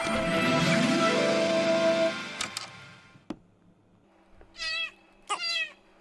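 A cat meows twice near the end, two clear rising-and-falling calls after a loud musical passage and a few sharp clicks, heard alone without talk.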